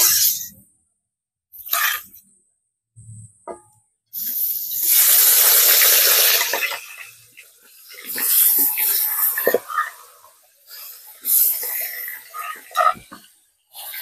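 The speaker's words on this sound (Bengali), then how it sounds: "তেলটা গরম হয়ে গেছে, এখন আমি মাছের মাথাগুলো দিয়ে দেব।" Fish heads dropped into hot oil in a pan, bursts of loud hissing and spitting sizzle that come and go, separated by quiet gaps.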